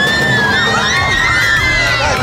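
A large crowd shouts and cheers continuously, with high excited voices, many sounding like children or young fans, forming a loud, dense wall of noise.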